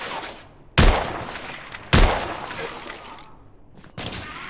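Heavy gunfire in the Victorian-era shooter The Order: 1886, with three sharp, loud bursts of shots spaced about a second apart, each trailing off into a rumbling, echoing decay.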